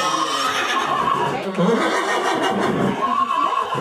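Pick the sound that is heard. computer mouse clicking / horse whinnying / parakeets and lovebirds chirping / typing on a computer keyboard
horse whinnying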